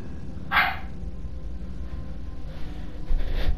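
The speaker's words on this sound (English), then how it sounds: "Quit barking." One loud, close dog bark rings out early, followed by quieter, rougher noise and faint rustling against a steady low background.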